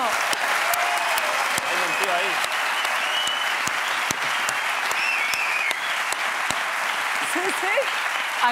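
A Spanish talk-show studio audience applauds loudly and steadily throughout, a dense wash of clapping with a few voices faintly underneath.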